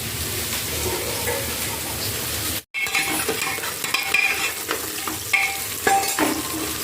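Potatoes tipped into a frying pan of cooked onions and stirred, a steady close sizzle with scraping and clatter of a utensil against the pan after a brief pause, no voices.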